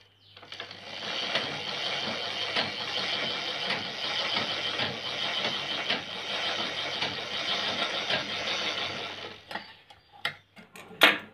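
A pico sewing machine stitches a small piece of cloth. It gives about nine seconds of continuous fast mechanical whirring and clatter up close, then stops, followed by a few sharp clicks and knocks.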